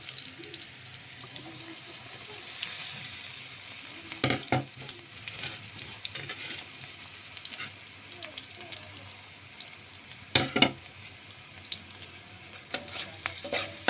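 Spices fry with a steady soft sizzle in a pan, broken by a few sharp scraping stirs around four and ten seconds, with faint running water in the background.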